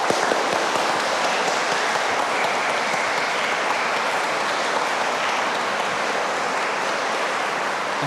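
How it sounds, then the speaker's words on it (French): A crowd at a farewell gathering for Abbé Cousin in a countryside parish applauds warmly, with dense, steady clapping that holds at an even level for the full stretch. "nous pouvons t'applaudir"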